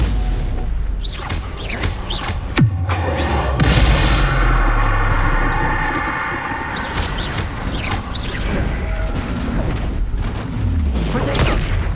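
Spell-combat effects from the Hogwarts Legacy video game, a Stupefy cast amid dense booming blasts and whooshing magic impacts, loud and continuous with a sharp burst near the start, under shouted spell names.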